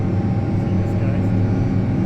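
Jet airliner engines roaring in a long unbroken low rumble during the takeoff roll, heard loud and close from inside the cabin.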